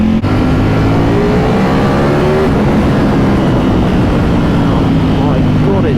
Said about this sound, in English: you see a red Ducati that sounds like this